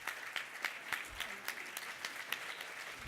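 Audience applause at a 2017 show, a moderate crowd clapping with distinct individual claps standing out in an uneven rhythm, fairly quiet and heard on its own without talk.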